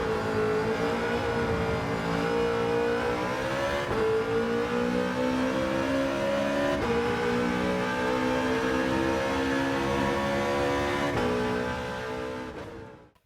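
A fully upgraded wide-body Corvette C5 in Gran Turismo 7 revs and accelerates with an aggressive, steady engine roar. The note climbs through several gear changes, then fades out at the end.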